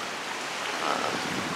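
Steady rain falls in San Juan, Puerto Rico, a constant even hiss close by with no talking over it.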